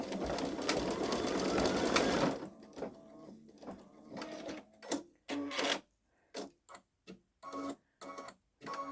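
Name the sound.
Babylock Solaris embroidery machine stitching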